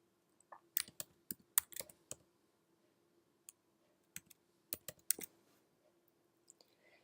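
Quiet, sparse clicks of typing on a computer keyboard, tapped in two short bursts with pauses between keystrokes in an otherwise silent room.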